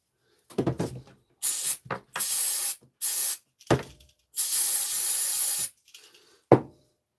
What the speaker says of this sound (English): I'll spray some on there.